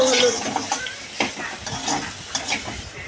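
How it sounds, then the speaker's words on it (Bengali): Whole spices and bay leaves fry in a pan while being stirred, giving a steady close sizzle broken by short scraping stir strokes, with no talking. "গরম মশলা তেজপাতা দিয়ে ভালো করে নাড়িয়ে নেব সুন্দরভাবে এগুলোকে ভেজে নেওয়া হচ্ছে"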